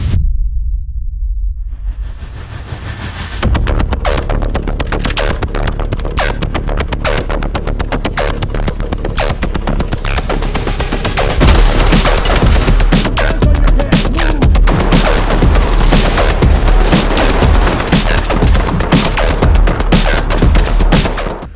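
Dense, continuous automatic gunfire in the tactical shooter Ready or Not, loud and close, with rapid overlapping shots and bursts from about three seconds on, intensifying toward the end, with no talking.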